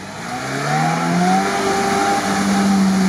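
A Lada Niva prepared for off-road driving revs hard along a rough former tank road, its engine note climbing and holding loud and close for the whole stretch.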